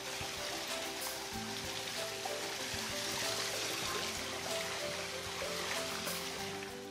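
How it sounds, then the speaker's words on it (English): Indoor garden water features in a custom North Ogden home, with fountains and waterfalls running as a soft, steady rush and trickle of water that continues quietly in the background. "You have fountains and waterfalls going in here."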